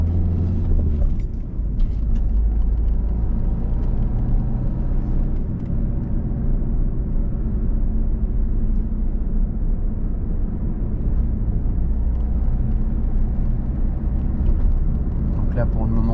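A car accelerates and shifts into second gear on a road, with a steady low engine rumble heard from inside the cabin. People talk over the engine noise throughout.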